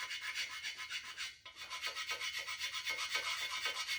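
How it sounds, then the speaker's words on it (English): A Mopar 360 Magnum engine block's bearing cap being scrubbed clean by hand, heard as close, rhythmic back-and-forth rubbing strokes at a steady pace, quiet and alone without any voices. "We're just trying to scrub some of anything that's embedded into the cap that maybe was there when they put it together the first time"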